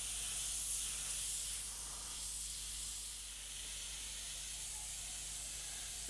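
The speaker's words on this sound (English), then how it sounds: "airbrushing that straight over the top of the fluoro orange that we did earlier" An airbrush sprays fluoro yellow paint over fluoro orange on a Jack-o'-lantern design, making a soft, steady hiss that fades slightly partway through.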